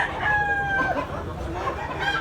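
A bullstag gamecock crows once nearby at a cockfighting derby in Tabunok, Cebu, a brief rising and sustained call over the murmur of a crowd.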